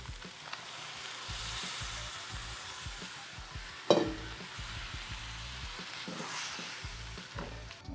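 Liquid poured into a hot pot of Trinidad-style macaroni pelau with chicken sets off a steady loud sizzle and bubbling, with a sharp clatter midway and spoon scrapes stirring throughout.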